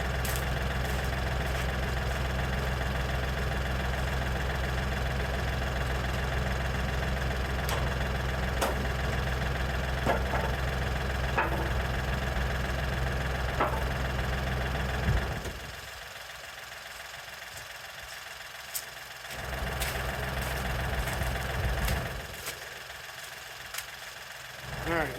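A tractor engine idles at a sawmill with a steady, loud low rumble and a slight knock. It drops suddenly about two thirds of the way through, surges back, then drops again.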